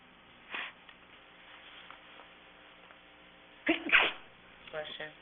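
At a Scarborough, Maine board of assessment meeting, someone sneezes once, sharp and fairly close, over a quiet room hum. A few softer rustles and small noises come before it, and a brief murmur follows.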